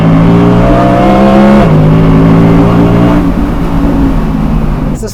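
Audi R8 Spyder rear-wheel-drive convertible's V10 engine revving hard and loud, its rising harmonic howl dipping once as the revs shift, then holding a steady angry drone close by.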